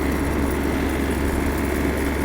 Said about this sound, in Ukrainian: Гарна, чиста робота двигуна навіть при максимальних обертах.